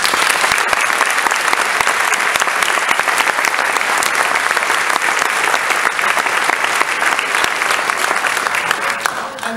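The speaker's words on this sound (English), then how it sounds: "Give them another round of applause." An audience at an All District band concert applauds loudly and continuously, dense clapping from a large crowd that carries on for several seconds before easing slightly at the end.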